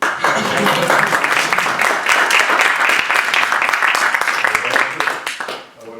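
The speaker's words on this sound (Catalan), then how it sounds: "primer t'aplaudim" Applause from a group gathered at a meeting on cataloguing muixeranga human-tower figures: dense, steady clapping sustained for about six seconds before tapering off at the end.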